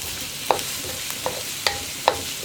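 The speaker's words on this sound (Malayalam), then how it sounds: "സവോളയുടെ കൂടെ തന്നെ നമ്മുടെ പച്ചമുളക്, ഇത് രണ്ടും ചേർത്ത് ചെറുതായിട്ടൊന്ന് വഴറ്റിയെടുക്കുക." Onions and green chillies sautéing in a pan for Gobi Manchurian, a soft steady sizzle broken by four distinct scraping stir strokes of a spoon, close and alone with no talk.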